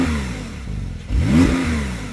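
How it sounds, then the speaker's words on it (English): A Porsche 911 Turbo with its sports exhaust valve open gives a close, loud rev, the low rumble swelling sharply into a throaty rise and easing back down. "When you press the button, it opens a valve in the exhaust,"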